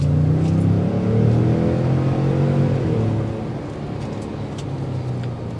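A 2023 Ford F-150 Tremor pickup truck accelerates from a near stop on a three-lane road, its engine a loud, steady low rumble that rises in pitch and eases off toward the end, with no talking.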